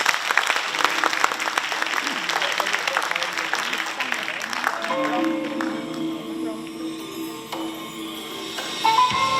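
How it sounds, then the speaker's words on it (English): An audience at a green-hospital conference applauds volunteers and models, a burst of clapping for about five seconds that fades, after which someone speaks and the room settles into quieter sounds. "So please show them a round of applause."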